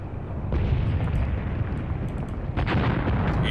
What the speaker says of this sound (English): That's enemy arty.